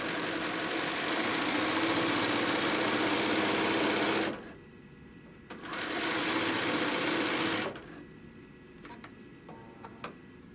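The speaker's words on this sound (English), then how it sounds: "we're going to sew down on both sides" A sewing machine stitches quilt fabric with a steady, close mechanical whir, stopping briefly, running again for a couple of seconds, then falling quiet apart from a few faint clicks.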